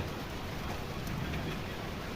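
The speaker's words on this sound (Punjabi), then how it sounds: "ਮੀਂਹ ਪੈ ਰਿਹਾ ਹੈ" Steady rain hisses down in a continuous, even wash of sound, outside a shop in Garaddi village, Mansa district, Punjab.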